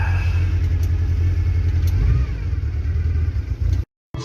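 A Morris Minor engine warms up on a freezing morning, a steady, loud idle with a slight rise in pace partway through, then a brief cut of silence near the end before the rumble returns.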